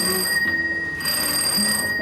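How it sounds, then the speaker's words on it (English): Front doorbell of an 1891 mansion in Canby, Minnesota, now a museum, ringing with a bright, sustained metallic bell tone that drops briefly and resumes, heard alone and close. "they would have rung the front doorbell"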